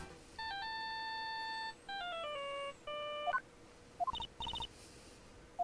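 In the Ace Attorney: Justice for All video game, a cell phone ringtone plays a repeating electronic melody in three short phrases, followed by a few quick clipped bleeps. The sound is clear and fairly quiet, with no voices.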